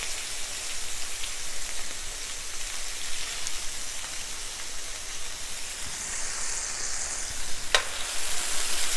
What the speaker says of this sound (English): So now I'm just going to flip our hamburgers.